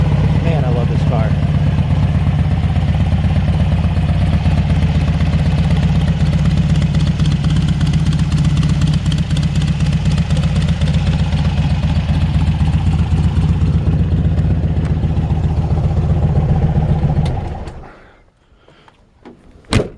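A 1964 VW Beetle's 1776 engine idles close by with a steady, even, throbbing rumble for most of the stretch, then shuts off and falls quiet just before the end.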